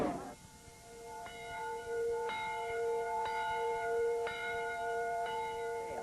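A church bell tolls steadily about once a second, its ringing tones overlapping and lingering, heard from a moderate distance over faint background noise.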